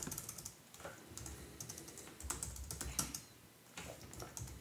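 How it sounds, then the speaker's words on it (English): Computer keyboard keys pressed to enter a tmux shortcut: a quick run of soft, close clicks and taps with short pauses between bursts, in a quiet room. "we can do Ctrl A, and then let go of our keys and press the comma button."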